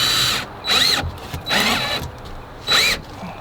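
A power drill driving screws in three short bursts, each a loud whining spin that rises and stops, with quiet pauses between.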